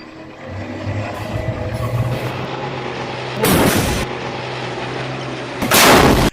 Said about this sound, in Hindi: हमास के लड़ाके लगातार इजरायली सेना पर गोला बारूद बरसा रहे हैं